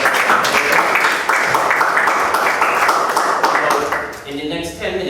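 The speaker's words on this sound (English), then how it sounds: "So give yourselves a round of applause as well." Close, loud audience clapping at an emancipation festival lecture ahead of a concert, steady at first and then thinning out as a voice begins speaking toward the end.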